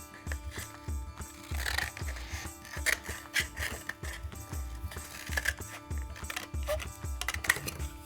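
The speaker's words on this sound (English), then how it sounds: "I'm going to take my 1 toilet paper tube and I'm going to cut it in half." Scissors cutting a cardboard toilet paper tube in half for a paper plate dinosaur craft, a series of close, irregular snips and crinkles with soft handling noise between cuts.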